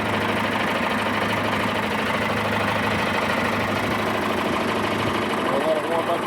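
A John Deere utility loader tractor engine idles steadily while warming up, a loud, even diesel rumble close by, with a voice talking over it.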